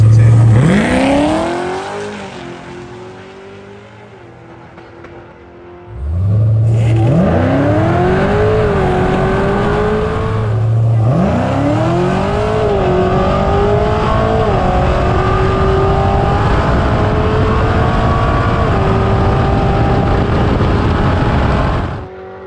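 A Cadillac CTS-V launches from the drag strip starting line, its engine roaring loud and close, climbing in pitch through repeated gear shifts after a quieter idle at the start.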